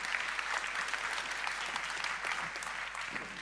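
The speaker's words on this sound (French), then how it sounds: "Merci beaucoup, on l'applaudit." Audience applause at a cloud-computing conference session, a dense steady clatter of many hands clapping that fills the whole stretch at even loudness, with no talk over it.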